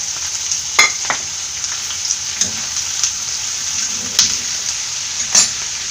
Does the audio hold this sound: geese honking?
no